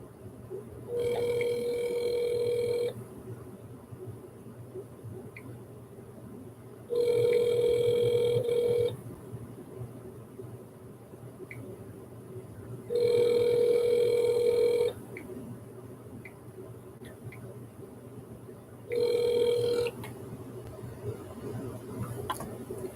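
A phone rings in four evenly spaced bursts, each about two seconds long with pauses between, heard through a speaker over a low background hum.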